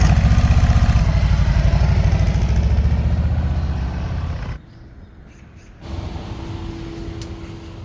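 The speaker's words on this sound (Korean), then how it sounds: "오토바이 타고 갑니다." A motorcycle engine runs close and loud with a rough, throbbing idle, then drops off abruptly for about a second before restarting at a lower, steadier idle hum.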